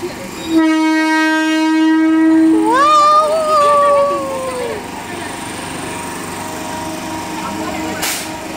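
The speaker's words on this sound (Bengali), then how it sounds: "ট্রেনটাই ঢুকলো, ওদিকে চলে যাবে" A train pulls into Hind Motor railway station in suburban Kolkata, announced by a long loud horn blast that bends in pitch, followed by steady rumbling and rolling of the carriages nearby.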